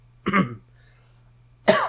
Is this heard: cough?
yes